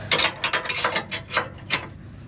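A ratchet wrench tightening a bolt while installing a Timbren suspension system, a quick series of about nine close, crisp clicking strokes in an uneven rhythm, with no talking.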